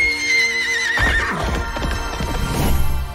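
A horse in the Minecraft Legends video game gives a loud, wavering whinny that drops in pitch, followed by steady clip-clopping hooves and busy game sounds for the rest of the moment.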